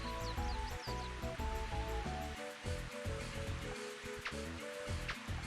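Steady rain falling in the Mario Golf video game at Toad Highlands, a continuous hiss under looping game music, with a few faint chirps on top.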